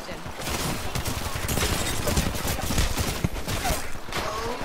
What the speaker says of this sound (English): I don't know if y'all heard me unloading with a P2020